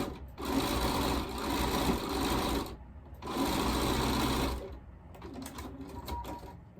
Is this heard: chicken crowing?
no